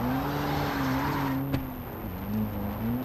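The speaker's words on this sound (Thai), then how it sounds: "ขับรถไปเลย เออเกมนี้รถควบคุมยากมากครับ" A car driven in the video game Far Cry 3, a steady wavering engine drone with a brief squealing skid, loud and continuous.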